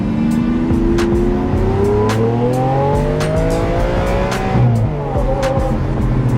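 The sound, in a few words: Lamborghini engine revving to redline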